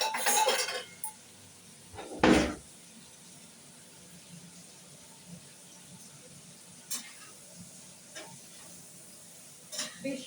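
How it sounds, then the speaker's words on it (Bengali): Prawns frying in a pan in a home kitchen for a mustard prawn dish, with soft intermittent sizzling, a loud clatter of a utensil stirring against the pan, and occasional light clinks, fairly quiet overall. "বেশি লাল করে ভাজবো না"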